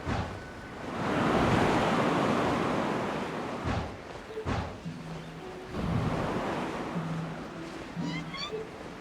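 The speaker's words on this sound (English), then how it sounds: "There's wind up ahead! Looks like we can glide over!" Gusting wind in a video game during the Lantern Rite festival swells into a broad, steady rush, with brief pauses and small game sound effects layered over it.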